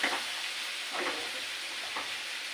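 Potatoes and onions frying in a pan over a gas flame, a steady broad sizzle with soft stirring swells, no talking.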